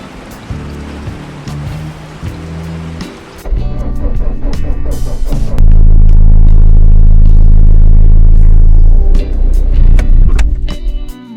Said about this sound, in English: Why isn't this car starting?